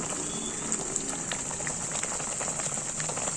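An egg curry (kara kuzhambu with eggs broken straight in) simmers in a pot, giving a steady, close, crackling bubble like light rain throughout.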